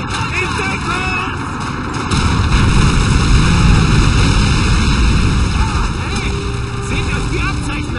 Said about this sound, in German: Feindliches Flugzeug.